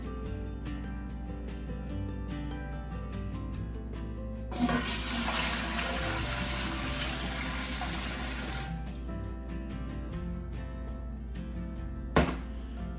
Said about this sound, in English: First thing we need to do is get the water in the pot.